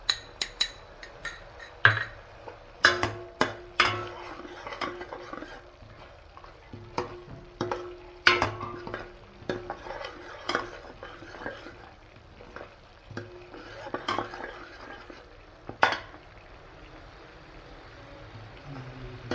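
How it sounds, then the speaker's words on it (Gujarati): Sesame and peanut bhujia powder roasting in a pan, with quiet frying beneath frequent sharp spoon scrapes and clinks against the pan over nearly twenty seconds, close up. "હવે આની અંદર તલ અને સિંગ ભુજિયાનો ભૂકો નાખીશું।"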